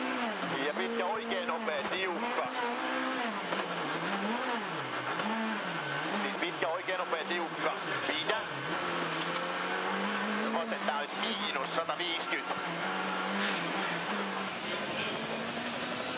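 A rally car on the St Bonnet Le Froid special stage of the 2010 Monte Carlo Rally, its engine revving up and down through gear changes and corners, under continuous commentary.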